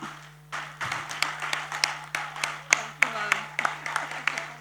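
An audience claps for a team of teachers at a school tribute event, scattered sharp hand claps forming a modest applause under a steady low hum, with a voice speaking over it.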